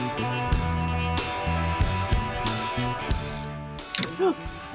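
A ratchet turns a car's oil drain plug loose, giving repeated bursts of rapid clicking in short strokes, close and clear, followed by a brief knock at the end.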